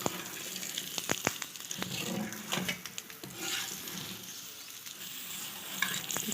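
Mooli paratha frying in ghee on a pan over low heat, a steady close sizzle broken by a few crisp crackles and scraping touches at the start.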